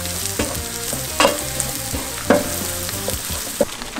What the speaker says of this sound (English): Got them with some butter and olive oil. Going in with a generous amount of garlic.